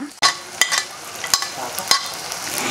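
Fenugreek and mustard seeds crackle and pop in hot oil, with onions, green chillies and curry leaves frying for a Kerala eel fish curry; a steady close sizzle is broken by several sharp spatters and stirring clatters, with no talk.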